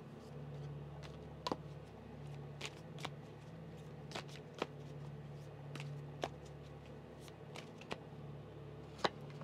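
Large oversized tarot cards are shuffled by hand indoors, soft papery riffling under a quiet room, punctuated by sharp card taps and snaps at irregular intervals.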